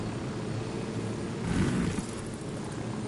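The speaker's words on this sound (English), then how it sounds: "and this is a battle chopper." A battle helicopter in a PS4 video game gives a steady, faint engine whir with a broad hiss. It swells briefly midway, then settles back to an even drone.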